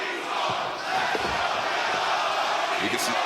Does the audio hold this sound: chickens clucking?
no